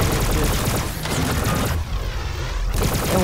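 The Light Beamer tower in the Roblox-style game Tower Blitz fires rapid rounds of pellets, a dense continuous crackle of gunfire-like shots with brief gaps, loud and close, no talking.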